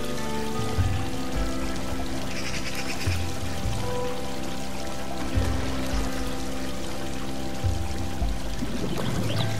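Water rushes and pours steadily through a level of the video game Unravel, a continuous loud stream with low thuds and game music layered underneath.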